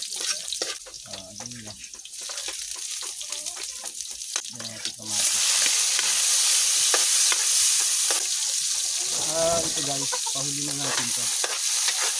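Garlic sautéing in cooking oil, with a mild sizzle under a man's speech that jumps to a loud, steady frying hiss midway, as the garlic hits the pan, and continues while talk resumes.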